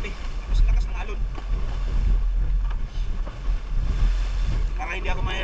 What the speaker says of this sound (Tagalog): Parang bagyo ata ngayon, lakas ng hangin, grabe, tapos lakas ng alon.